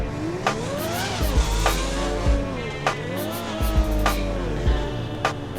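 A Lamborghini engine in Grand Theft Auto revs and rises through gears in sweeping pitch climbs, with repeated sharp shifts and tire squeals, loud and close with no talk.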